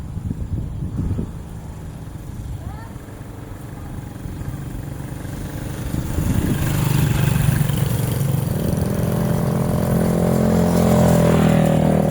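A learner rider practices on a motorcycle with a trainer nearby, the engine idling and then revving up and holding a louder, steady drone, close and continuous with no talk.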